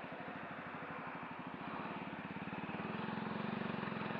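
A loud aftermarket motorcycle exhaust pipe runs steadily throughout, its throbbing engine note swelling slightly louder partway through and holding under broadband wind and road noise.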